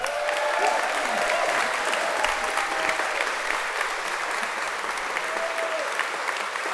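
Sustained applause from a graduation ceremony audience fills the hall, dense steady clapping holding at an even level throughout.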